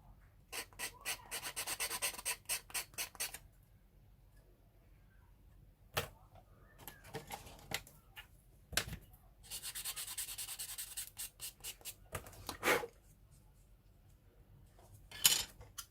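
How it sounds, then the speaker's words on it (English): Plastic parts of a 1/48 Pegasus Hobbies snap-together Bf 109 E4 model kit being sanded by hand, heard as bursts of quick rasping strokes with short pauses between them, close and fairly loud, with no talking. "little bit of sanding"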